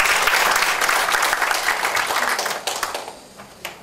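At a forum on social welfare service delivery, the audience breaks into loud, dense applause. The clapping holds steady, then thins and fades toward the end, with a few last claps trailing off.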